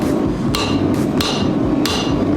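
Three sharp hammer blows strike hot steel at a forge while cutting partway through it for a forge-welded dragon head, evenly spaced ringing impacts, close and loud over a steady roar of background noise.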